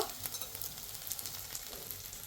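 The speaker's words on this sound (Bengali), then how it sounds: "এভাবে সব কয়টা বড়া আমি ভেজে নিব।" Steady, close sizzling and crackling of lentil fritters frying in hot oil, with a continuous bubbling hiss and no voices.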